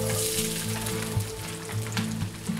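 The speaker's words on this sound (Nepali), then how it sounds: "अब यो तातिसकेपछि यसमा लाम्चो गरी काटेको अदुवा हाल्छौँ" Slices of ginger fry in hot mustard oil in a pot for a meat pickle, giving a dense, close, continuous sizzle with faint crackles and occasional stirring bumps, and no talking.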